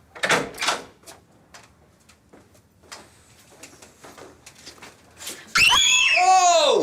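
Several people scream, with shrill bursts at the start and near the end and quieter sounds between.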